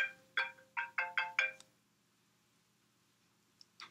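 Phone ringtone going off in a theater: five bright, evenly spaced tones ring out clearly, then silence, with a couple of faint clicks near the end.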